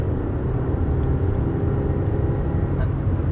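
A car running flat out on the Top Gear test track, heading onto the runway, gives a steady, loud engine and road roar with wind rush that holds unbroken for a few seconds.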